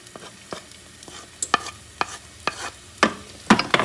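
Chopped onion sizzles in a hot pan while a utensil stirs it, giving a soft steady fry with repeated sharp scraping taps about every half second. The stirring grows louder toward the end.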